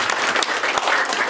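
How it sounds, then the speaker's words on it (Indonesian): A room of school principals at an Indonesian education coordination meeting bursts into loud, close applause, a dense continuous patter of many hands clapping with no speech over it. "Tepuk tangan buat Bapak Ibu semua."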